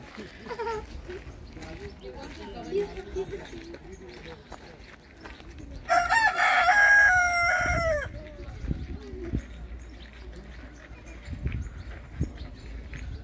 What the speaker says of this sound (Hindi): लो भी वांग भी सुन लो मुर्गे दी।